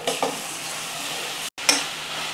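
Potato cubes and mushrooms sauté in a hot pan with a steady sizzle, broken by a few scraping stirs and one brief gap, close and fairly loud with no voices.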